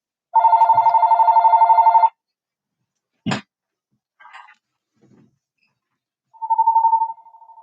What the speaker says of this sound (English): Who is this ringing his phone?